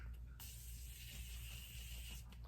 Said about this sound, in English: now I'm gonna take my setting spray one more time